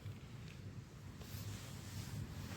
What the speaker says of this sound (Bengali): চারিদিকে সমুদ্রের আওয়াজ হচ্ছে